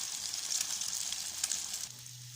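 Egg and mixed vegetable omelette batter sizzles in hot oil, a close continuous frying hiss with small crackles that eases slightly near the end as a low hum comes in.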